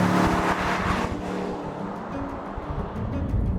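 A blue 2024 Aston Martin Vantage drives along a public road, its engine note loud and close with a throaty rumble and shifting revs, plus tire and road noise, with no one speaking.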